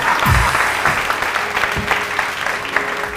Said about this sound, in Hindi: बहुत सारी तालियां रानी आपा के लिए।